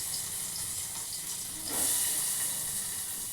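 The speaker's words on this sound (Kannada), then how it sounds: "ಇಲ್ಲಿ ಪಲ್ಯಕ್ಕೆ ಒಗ್ಗರಣೆ ಮಾಡ್ಕೊತಾ ಇದ್ದೀನಿ" Oil hisses in a pan as tempering is fried for a vegetable palya, a steady broadband sizzle that swells briefly partway through, close up and with no talking.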